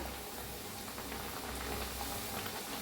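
Dough frying in hot oil for a pumpkin recipe, producing a faint, even bubbling hiss that holds steady from start to finish.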